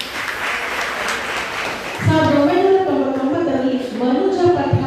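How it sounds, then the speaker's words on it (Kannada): Loud applause from an audience at a cultural anniversary celebration rises for about two seconds, then gives way to music with sustained tones. "ಜೋರಾದ ಚಪ್ಪಾಳೆ."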